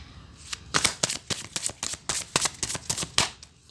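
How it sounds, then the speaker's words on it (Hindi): Close, crisp riffle-shuffling of tarot cards during a reading, heard as a rapid series of papery flutters and snaps in quick bursts for several seconds, with no one talking. "जब तक मैं कार्ड शफल करूँ"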